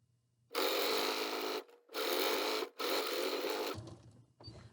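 A sewing machine hems the sleeve of an isolation gown made from a twin sheet, running in three loud, close bursts of steady whirring with brief pauses between, then quieter handling noises.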